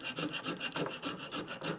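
A rasp files across wood in quick, rhythmic rubbing strokes that are close and fairly soft, part of working on a Pulaski axe.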